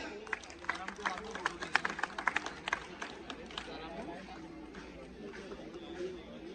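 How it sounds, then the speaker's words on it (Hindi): An award ceremony audience breaks into scattered applause, the claps strongest in a short burst before fading into crowd murmur, with a voice talking over it. "दोस्तों, जोरदार तालियां।"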